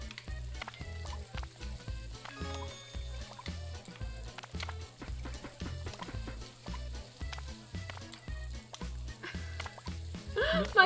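Meat sizzling in a pan in the cooking video game Overcooked, with rapid rhythmic clicking and sizzle bursts under a pulsing game soundtrack, fairly quiet, no talk.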